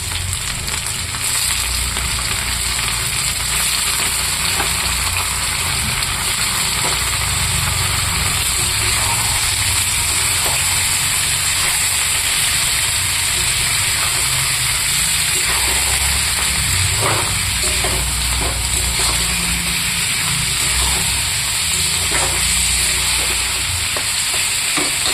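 Chicken pieces go into reddened, frying onions, and a loud, constant sizzle continues for about 25 seconds with intermittent stirring clatter and no speech.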